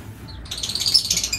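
A cockatiel gives a short burst of high chirping calls while being given food, close by and fairly loud after a brief quiet start, with no talk.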